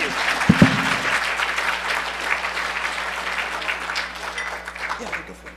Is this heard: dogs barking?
no